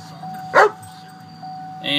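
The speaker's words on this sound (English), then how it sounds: "Sorry about my dog." A dog gives a single short bark indoors near a 2007 Chevy Silverado, close and sharp against a quiet background.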